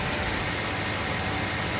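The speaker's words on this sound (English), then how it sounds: "Because the engine's idling down, of course." A Dodge Ram with a Hemi engine, suspected of ticking or an exhaust leak, idles steadily up close, giving a continuous even rumble with no voices.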